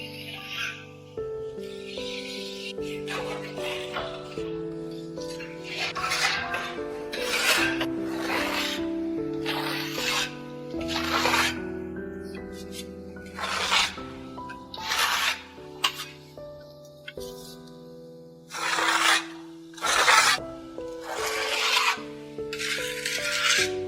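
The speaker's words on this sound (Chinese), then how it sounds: "以前的老房子基本上是石灰墙面，刮腻子之前打磨一遍墙面，可以增强腻子与墙面的紧密性。" Sanding an old lime plaster wall in a renovated old house before putty, repeated rasping strokes of varying length and loudness, fairly close, with no speech.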